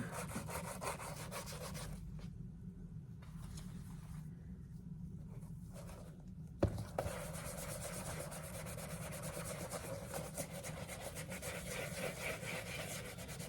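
A brush scrubs a vintage Craftsman tool pouch in continuous close rasping strokes that stop briefly near the middle, then return with a sharp knock before the steady scrubbing resumes.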